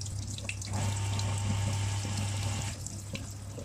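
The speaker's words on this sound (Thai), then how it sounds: "แล้วมาดูอีกตัวนึงเปิดน้ำมาพี่น้องดูฟึ๊บ" Tap water runs steadily over catfish being rinsed in a sink, a close, continuous splashing stream that eases off near the end.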